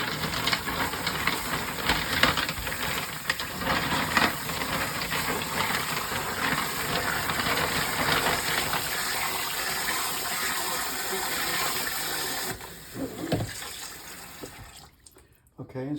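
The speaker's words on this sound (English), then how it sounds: "What we do is we rinse the top of the clam, probably stir it around with our hand a little bit." Running water pours steadily while clams are rinsed and stirred by hand, a continuous close hiss and splash that fades out toward the end.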